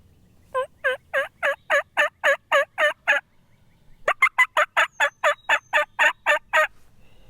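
Wild turkey calls during a spring hunt where a 100-year-old wooden box call is used: two loud, close runs of rapid, evenly spaced notes separated by a brief pause, with little else audible.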